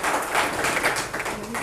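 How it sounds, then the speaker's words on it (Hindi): Audience applause at a National Youth Day gathering in Chamba, a steady broad wash of clapping filling the whole moment without a break, with a faint murmur of voices underneath. "मैं एक बार चाहूँगा कि आप ज़ोरदार तालियों एक बार अपने लिए ज़रूर लगाएं"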